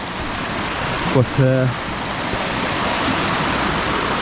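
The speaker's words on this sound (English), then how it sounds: "The river's not too bad" A river flows through a wooded glen as a constant broadband rush, with someone briefly talking over it.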